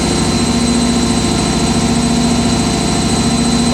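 An Indesit WIDL102 washer dryer spins at 800 RPM during a 90°C whites prewash cycle, giving a loud, continuous, even mechanical whine and hum with no letup.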